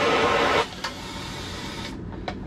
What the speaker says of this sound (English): There's your central vac right there. You just broom your stuff right over there.